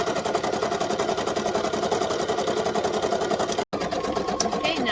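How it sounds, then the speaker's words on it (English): A sewing machine runs a satin stitch around an applique with a fast, even needle rattle, loud and close, cut off by a brief pause before continuing. "now you want to take this to the machine and we're going to do the satin stitch around the applique"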